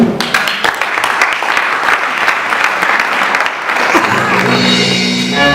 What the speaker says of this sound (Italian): la accogliamo con un applauso.